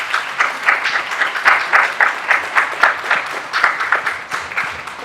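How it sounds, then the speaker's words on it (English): An audience at a community forum on policing gives a panel a round of applause, a loud, sustained patter of many hands clapping in uneven surges over five seconds. "if we could give our panel a round of applause"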